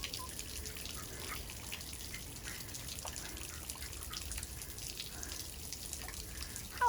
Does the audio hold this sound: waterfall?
yes